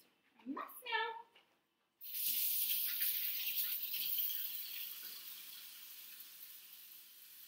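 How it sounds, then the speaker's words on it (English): Hands being washed under a running kitchen tap, a steady broadband rush of water starting abruptly and continuing close and fairly loud, after a brief bit of speech at the start. "I'm going to wash my hands real quick"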